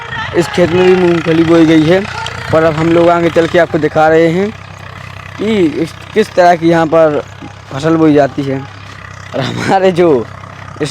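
A tractor engine idles and runs steadily in a peanut field during the kharif season, a low continuous drone that sits beneath someone talking throughout.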